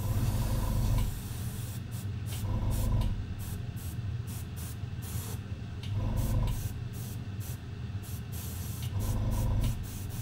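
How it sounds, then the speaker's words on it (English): An airbrush spraying paint in repeated bursts of steady hiss, each lasting one to two seconds with short gaps between, close and fairly loud over a constant low hum. "The thing with the airbrush, you can always do more coats quickly."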